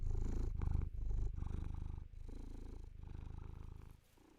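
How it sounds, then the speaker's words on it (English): A hungry house cat purrs close up at feeding time, a steady rhythmic rumble of alternating breaths that stays soft throughout, with no talking. "purr into the mic for the people."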